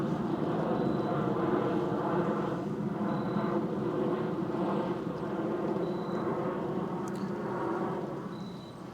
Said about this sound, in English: It's like a jet headed to the Branson Airport.